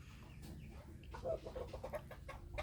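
Native chickens cluck in a series of short, soft calls at close-to-moderate distance, scattered irregularly over a faint background with no talking.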